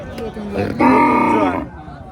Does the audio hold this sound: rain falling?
no